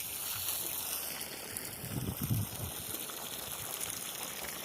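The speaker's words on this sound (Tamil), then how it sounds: "தண்ணி பாய்ச்சிட்டு இருக்கிறோம் மல்லிகைப்பூ போகிற அரும்பாக இருக்குது" Water flows across the ground while jasmine plants are being watered outdoors, a steady, fairly faint gushing wash with a few low splashes and no clear talking.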